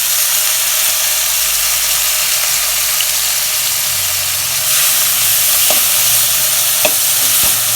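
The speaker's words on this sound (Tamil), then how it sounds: "எண்ணெய் காயிட்டும் பீக்கங்காய் தோல் போட்டு நம்ம அதை வணக்கி எடுத்துக்கலாம்" Ridge gourd peel sautéing in hot oil gives a steady, close sizzle and hiss throughout, with a few sharp scrapes and taps of a spatula against the pan near the end.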